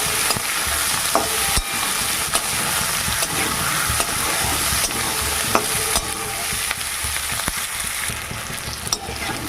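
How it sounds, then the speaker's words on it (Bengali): Eggplant and onion fry in an oiled pan with a continuous close sizzle, punctuated by irregular spatula scrapes and stirring knocks every second or so, loud and steady with no voices. "এভাবে ভাজতে হবে ভালো করে ভেজে নেবো"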